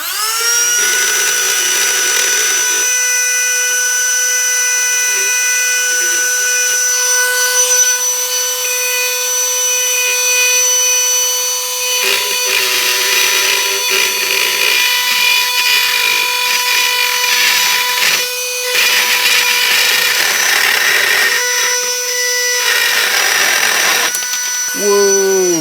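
A Temo rotary tool spinning a carbide burr as it cuts, a loud sustained high-pitched whine with a steady tone, shifting slightly in pitch as the burr bites into the material, continuous for the whole stretch.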